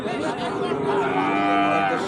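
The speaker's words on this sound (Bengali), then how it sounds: "বেশ ভালো ভালোই গরু আছে এই পাশে" A Sahiwal cow lets out a long, loud, drawn-out moo close by at a cattle market, with faint crowd chatter in the background.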